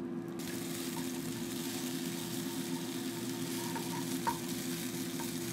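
Chopped chili frying in hot olive oil in a pan gives a steady, close sizzle throughout, with a few small pops and no talking.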